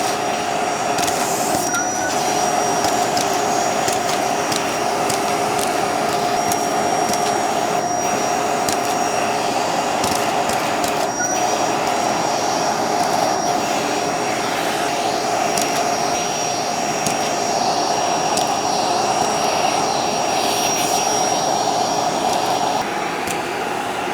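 A Bissell Pet Hair Eraser Turbo Lift-Off vacuum cleaner runs continuously, a loud steady whine and roar close up with a thin high tone and no pauses.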